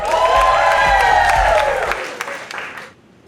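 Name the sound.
comedy club audience applauding for comedian Bobby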